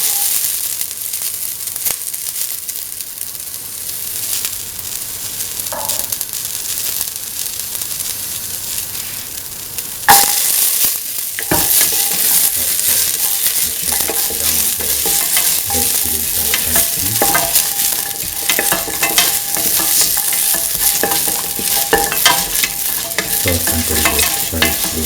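Shallots frying in hot oil as a spatula stirs them around the pan, a steady close sizzle with scraping and stirring noises that grow busier partway through.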